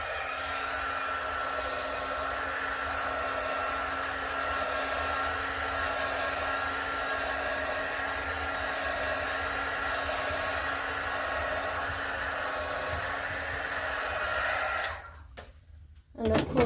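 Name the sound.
heat gun blowing on an acrylic Dutch pour painting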